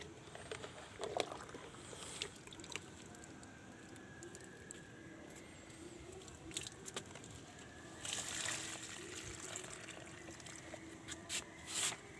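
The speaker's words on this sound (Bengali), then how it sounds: "এক মগ দিলাম প্রতিটি গ্রো ব্যাগের মধ্যে এক মগ করে জল" A mug of liquid organic fertilizer water poured into a grow bag in a rooftop garden, a soft, faint trickle and splash that runs on gently, with a brief louder gush near the end.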